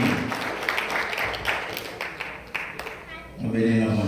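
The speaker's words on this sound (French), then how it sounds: "On applaudit mon Dieu, pasteur Buto et Johnny." A congregation at a Haitian outreach church applauds on pastor's appreciation day, a steady wash of clapping from a crowd with a voice talking over it.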